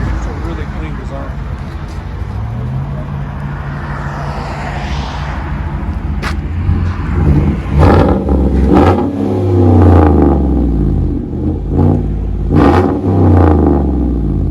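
A 2015 GMC Sierra All Terrain's 6.0L V8 barks through dual straight-pipe exhaust, idling with a low rumble before several loud, sharp revs rise and fall close by, with a voice talking over it.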